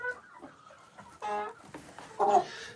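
Chickens being fed in a village cluck and call close by in short, irregular bursts, a few louder squawks standing out against a quiet background.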